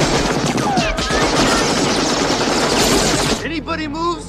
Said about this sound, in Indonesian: Sehingga aksi baku tembak dan baku hantam, tidak dapat lagi dihindari.